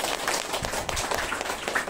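Audience applause at a motivational talk, dense continuous clapping from a crowd, moderately loud and steady for a couple of seconds.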